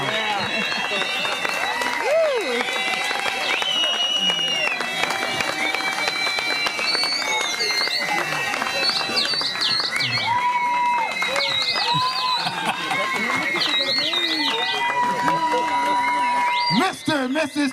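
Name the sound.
wedding guests applauding the newlyweds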